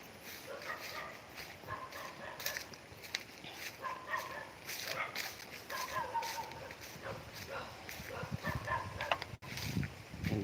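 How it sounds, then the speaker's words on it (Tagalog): Several dogs bark in short scattered bursts around a rural spot beside pineapple and corn fields, heard under steady outdoor noise while a person talks. "Ang daming aso nga lang dito guys."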